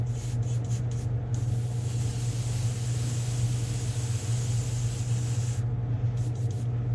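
Paint hisses from a sprayer onto the belly of a Megabass S-crank style lure blank, adding blue in a few short bursts and one long pass over a steady low hum.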